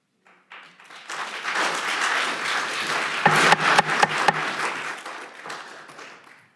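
Sustained applause from an audience at a city council meeting, swelling after a second and holding steady with some louder clapping bursts before tapering off; no talking over it.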